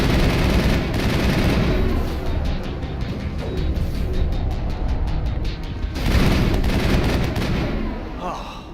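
An enemy weapon opening fire in the Mass Effect game, a loud continuous barrage of rapid shots and booming impacts that eases mid-way then surges again near the end over background music.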